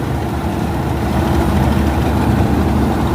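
An 855 tractor engine idles close by with a steady, unbroken low rumble that holds at an even level throughout, with no voices over it.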